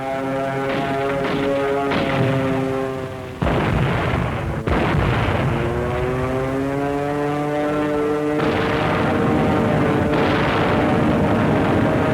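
Artillery guns firing in archival WWII jungle battle footage, heard as loud booming blasts over a dense roar with a droning, aircraft-like hum. Two sharp bursts stand out partway through.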